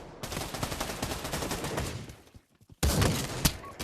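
Rapid bursts of gunfire from the Pavlov VR shooter game, a dense continuous fusillade that drops to near silence around the middle before another loud volley erupts close by.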